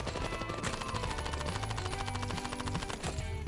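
Continuous gunfire in the mobile shooter Standoff 2 as a magazine is emptied, a steady dense rattle of rapid shots filling the whole moment, loud and unbroken.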